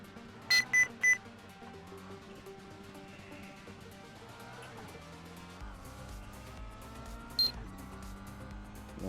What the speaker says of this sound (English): You'll hear a beep when I'm sort of due to change gear